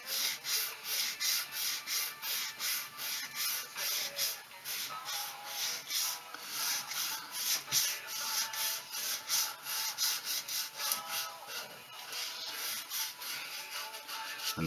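Sandpaper rubbed by hand along the grain of a wooden .410 shotgun stock during repair, a steady series of quick back-and-forth rasping strokes, close and even in rhythm.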